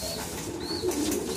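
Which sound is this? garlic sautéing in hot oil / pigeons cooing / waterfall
pigeons cooing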